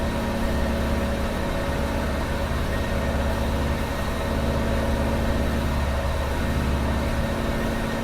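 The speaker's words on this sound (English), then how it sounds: "each of these radial engines here are the Wright J69 Whirlwind 9-cylinder radials" Wright Whirlwind 9-cylinder radial engines on a Ford Trimotor aircraft drone steadily and loudly, a dense continuous engine roar with strong low harmonics that holds even throughout.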